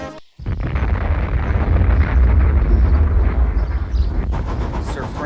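A cartoon explosion in an animated railway story, a loud sustained roaring blast with rumbling low end lasting several seconds after a short silence, close and dominant with no voices over it.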